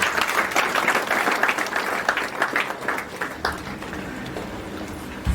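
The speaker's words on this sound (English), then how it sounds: "we need to clap our hands for them" Guests clapping at a gala dinner celebrating matric graduates, a lively burst of applause with some individual claps standing out, thinning slightly toward the end.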